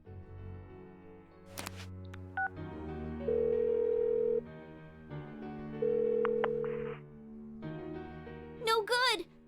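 Phone ringback tones from the video game Persona 4 Golden, in two steady, long buzzing rings with pauses between, mixed with game music and soft interface beeps.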